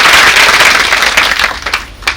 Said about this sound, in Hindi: तो आप सभी इनके लिए एक बार ताली बजाइए।